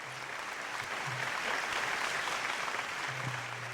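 An audience claps to welcome a poet at a ghazal recital competition, giving a steady, fairly faint wash of applause across the whole stretch. A faint low hum sits underneath.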